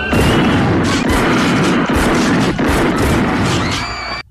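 A shotgun fires in the Terminator film amid a dense, loud action soundtrack, with booming blasts and crashing impacts over a constant roar of score and effects.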